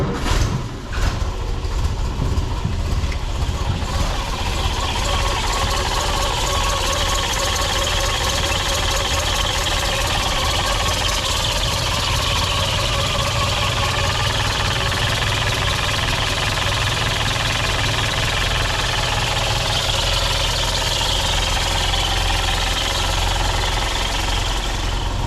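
A 1985 M151A2 MUTT military truck engine cold starts and then settles into a loud, steady, rough idle with a knocking rumble that runs without a break, close by and with no voices.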